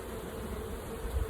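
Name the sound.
honeybees buzzing around a hive box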